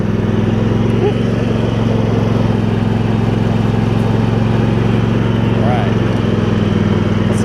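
A Husqvarna YTH2348 riding mower engine runs steadily with a loud, low, even rumble, close by and unchanging throughout.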